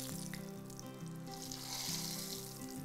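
A vermicelli-coated finger fry sizzles in a shallow pan just after being flipped, a steady close crackling hiss that swells slightly toward the end, with no voices.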